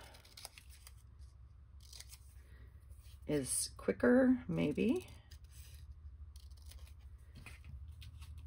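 Faint snipping of scissors through paper in the background, with a person speaking briefly in the middle.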